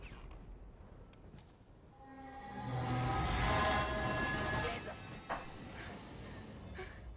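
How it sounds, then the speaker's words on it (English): A train passing in the video game Alien Isolation, a rumbling mechanical roar that swells over a few seconds, peaks and then fades into a low hum. "Bye, scary train."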